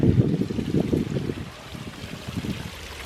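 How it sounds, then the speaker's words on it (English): A stream flowing near a waterfall in a park garden, a continuous rushing and gurgling water sound heard close by, slightly louder at first, then settling, with no talk. "But do you hear that water?"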